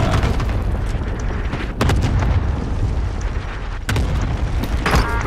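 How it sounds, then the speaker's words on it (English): Cluster airstrike detonations in Call of Duty: Modern Warfare roll together into a dense, sustained wall of loud, close booms and rumbling, with a few sharper blasts punching through. "Authorizing airstrike on my vector. Got your request. Cluster strike is active."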